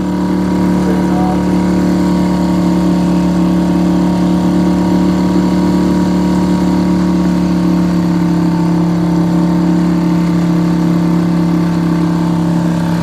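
A Suzuki 2.5hp outboard motor pushes an Intex Mariner 4 inflatable boat, droning steadily at partial throttle with a constant, unchanging hum close by and no voices over it.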